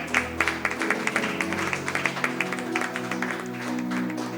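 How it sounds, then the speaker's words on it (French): Studio audience on a French-language talk show set applauding and cheering, with sharp rhythmic claps over a sustained tonal backing, moderately loud and steady throughout. "est-ce qu'on peut continuer avec les acclamations?"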